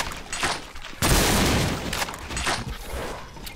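Shotgun blasts in the first-person shooter Brutal Doom (Project Brutality 3 mod), a loud burst of heavy booming fire with ringing decay, followed by further shots and chaotic combat noise.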